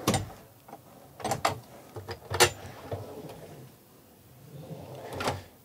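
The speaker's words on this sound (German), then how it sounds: "Unsere Schubladen gucken wir uns auch nochmal in Ruhe an." Drawers in a Laika Ecovip H 4109 DS motorhome sliding open and shut, several sharp knocks and clunks spread over a few seconds, close by with no talk.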